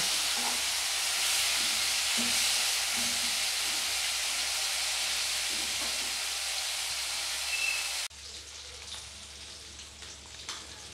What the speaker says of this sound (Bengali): দিয়ে ভালো করে মাছটিকে আমি লাল করে এটাকে ভালো করে